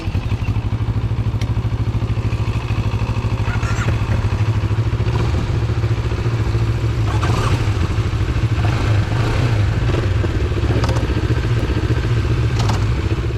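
A Moto Morini STR Street motorcycle on a demo ride through neighborhood and city roads in Southern California gives a steady, loud engine drone with a low rumble and some rattling clatter, with no talking.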